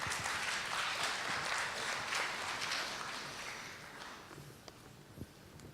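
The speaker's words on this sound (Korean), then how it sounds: "큰 박수로 맞이해 주시기 바랍니다" A large crowd at a security conference applauds continuously, a dense wash of clapping that slowly fades toward the end, with a few scattered louder claps.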